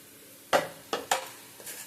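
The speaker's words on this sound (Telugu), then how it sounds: "ఇప్పుడు బాగా కలుపుతాము." A spoon scrapes and clinks against a pan while stirring a masala mixture seasoned with coriander powder, giving three or four distinct, close strokes in quick succession.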